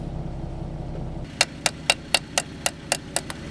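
Eleven sharp metallic hammer strikes land in a quick, even rhythm after a low engine-like hum cuts out, close and loud, while fixing a broken-down off-road vehicle in the mountains.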